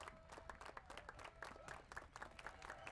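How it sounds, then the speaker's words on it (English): Rhythmic applause from a high school baseball dugout at a playoff game, a run of faint clapping beats heard at a distance with crowd murmur behind. "Whippet dugout with some rhythmic applause right here"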